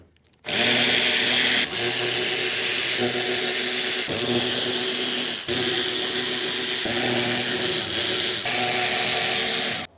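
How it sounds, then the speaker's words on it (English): A power tool with an 8mm socket undoing fasteners on a Toyota Camry, a loud continuous whirring drone with several brief pauses and shifts in pitch, close up with no talk. "Now we're gonna get our 8mm socket. And we're gonna undo the fasteners."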